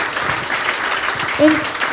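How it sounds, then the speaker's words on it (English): An evening alumni gathering audience claps for two speakers, an even, moderate wash of applause under a nearby voice, with one brief louder bump. "Can we please give a round of applause to our two speakers this evening?"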